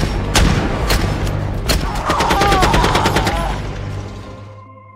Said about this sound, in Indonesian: Terjadilah baku tembak di antara mereka.